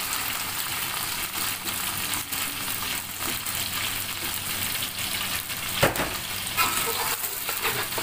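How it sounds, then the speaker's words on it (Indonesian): Blended spice paste sautéing in hot oil in a pan for catfish sambal, a steady close sizzle and crackle with occasional stirring scrapes and knocks, no talking. "Tumis hingga pecah minyak."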